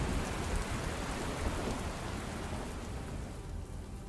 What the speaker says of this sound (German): hier regnet es ja auch noch rein